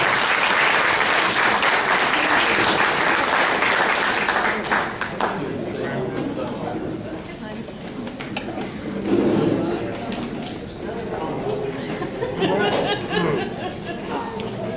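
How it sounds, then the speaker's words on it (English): Loud, full applause from the audience for candidates at a school board trustees debate, sustained for about five seconds before giving way to murmuring chatter and scattered voices as people move about. "Please give the candidates a big round of applause."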